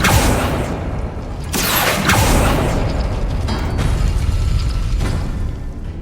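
Bombarda and Confringo spells blasting in Hogwarts Legacy, loud bursts and crashing impacts at uneven intervals over a dense rumbling background, no talk.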